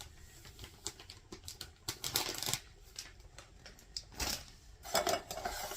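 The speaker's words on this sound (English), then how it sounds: "And then I'm going to put the lid back on." Metal cookware clinks and scrapes as a lid is set back onto a cooking pot of potato casserole. Light clattering comes in scattered bursts at close range with no talking.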